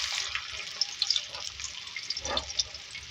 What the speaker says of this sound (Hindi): यहाँ ऑयल लिया है, इसमें प्याज डालेंगे।